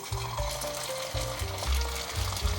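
Shiitake mushroom slices frying in plenty of hot oil in a wok, a steady close crackling sizzle with low bubbling beneath, continuous with no voices.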